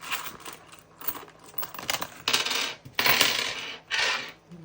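Coins jingle and clink in bursts as they are handled and counted out for a monthly cash budget, close and fairly loud, with short pauses between handfuls and no talking.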